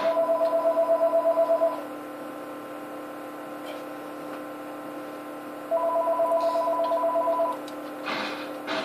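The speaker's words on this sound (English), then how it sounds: "It's our house phone" A landline house phone rings in two bursts of rapid electronic trilling tones, loud and close, separated by a few seconds of quieter background hum from a computer game.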